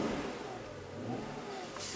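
Engine of a 2009 Mercedes-Benz ML550 running, a steady broadband rumble and whoosh heard up close with no talk.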